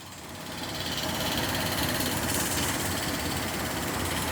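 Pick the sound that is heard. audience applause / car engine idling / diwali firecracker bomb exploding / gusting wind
car engine idling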